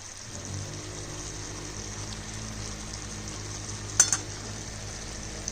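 Steady low sizzle of cauliflower stems frying in a covered pan after a sprinkle of water, with a brief clatter partway through.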